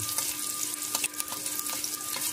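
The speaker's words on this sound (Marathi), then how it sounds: "त्यानंतर आपण यामध्ये बारीक चिरलेला कांदा टाकून घेऊया।" Finely chopped onion sizzling steadily in hot oil in a pan for a fish curry, a close, continuous hiss with soft crackles and no talking.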